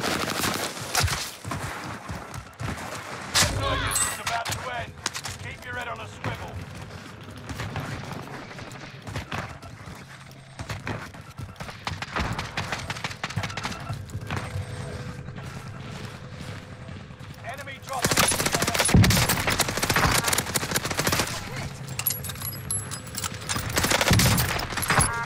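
Gunfire from an MP40 submachine gun in the battle royale game Warzone, with repeated bursts and rapid shots popping through a busy mix of in-game noise, loudest near the end.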